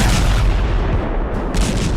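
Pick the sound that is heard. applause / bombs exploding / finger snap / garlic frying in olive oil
bombs exploding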